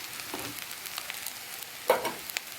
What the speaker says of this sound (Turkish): Sıcak suyum var çaydanlıkta. Ondan dökeceğim.